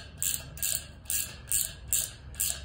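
A ratchet wrench cranks a 7/16 nut down on a concrete anchor bolt, giving six evenly spaced bursts of sharp clicking about half a second apart, close and clear with no talk.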